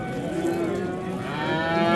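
Cattle moo close by at a busy livestock market in Qoʻshtepa, Uzbekistan, where young bulls are sold; one steady, drawn-out lowing call holds over a constant crowd murmur for the full two seconds.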